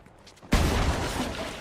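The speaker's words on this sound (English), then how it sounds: "Based on the gunfire I'm hearing, though, it sounds like it's probably just bot fire" Bot gunfire in the video game Fortnite erupts suddenly after a near-silent moment and continues as a loud, dense burst of shots.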